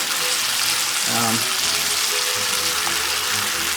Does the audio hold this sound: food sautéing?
yes